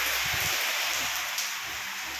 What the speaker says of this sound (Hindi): उठ, इधर बारिश आ रही।